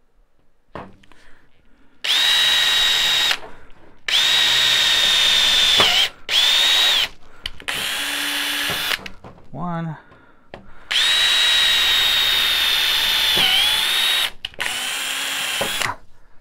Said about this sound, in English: These tapping drill bits are awesome because it is just doing for me what I want.